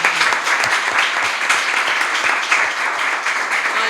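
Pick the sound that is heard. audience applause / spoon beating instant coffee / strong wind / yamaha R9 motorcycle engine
audience applause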